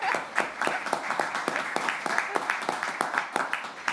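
A conference audience claps in short bursts as a host introduces a panel, distinct individual claps sounding fairly close while a voice keeps speaking over them.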